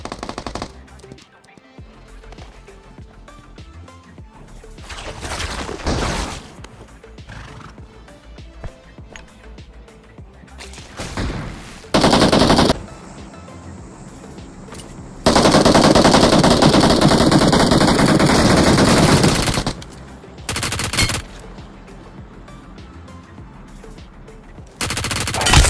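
Automatic gunfire in the BGMI (PUBG Mobile) shooter game, with loud sustained bursts of rapid shots alternating with quieter stretches of game ambience and scattered single reports.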